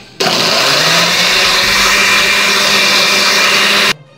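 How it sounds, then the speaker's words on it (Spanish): A blender grinding chili runs loudly and steadily for several seconds with a whirring motor grind, starting and stopping abruptly. "Tuve que parar la licuadora"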